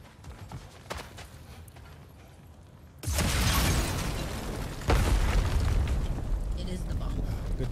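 A sudden, loud explosion blasts apart wedged rocks in God of War Ragnarok, then a second heavy boom follows about two seconds later, with sustained rumbling debris over the quieter game ambience.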